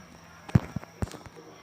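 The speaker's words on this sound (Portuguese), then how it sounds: "Essa zoada aí chata, né, galera? De bombinha." Small firecrackers go off in a Minecraft game: three sharp pops about a quarter second apart, each short and punchy over a quiet background.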